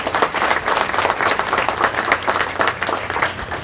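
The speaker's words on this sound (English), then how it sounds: "please give them a round of applause." Applause at an outdoor flag raising festivity, a crowd clapping steadily and fairly loudly throughout, dense and even with no talking over it.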